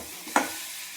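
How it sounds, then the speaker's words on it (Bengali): Potatoes frying crisp in a pan, a quiet, steady sizzle broken by one short stirring scrape, heard up close without any talk. "এই দেখেন সব ভাজা হচ্ছে"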